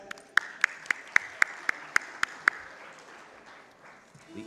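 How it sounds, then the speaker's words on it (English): Rhythmic clapping at an inaugural session of the FICCI Frames 2023 industry event: about eight sharp, evenly spaced claps over two seconds, then a soft murmur of room noise. "Round of applause, guys."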